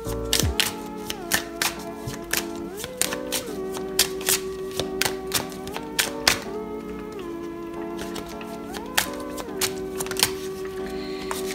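Tarot cards are drawn and laid down one after another, giving a quick series of light taps and slaps at an uneven pace over a sustained soft musical bed.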